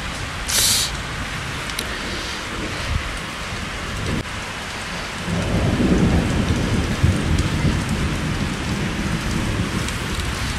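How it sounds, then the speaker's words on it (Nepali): Heavy rain pours steadily on outdoor surfaces while thunder rumbles, the storm swelling louder midway with deep rolling booms under the constant hiss of the downpour. "धन्ना पानी पऱ्यो है अहिले चाहिँ। आहाई आहाई कस्तो बिजुली चम्क्या।"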